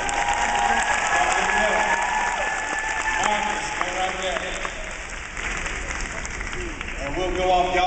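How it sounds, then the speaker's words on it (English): Applause and crowd noise from an audience at a ladies' football clinic idol-style contest, a steady wash of clapping that runs the whole clip, with voices mixed in throughout. "We'll go off y'all's applause."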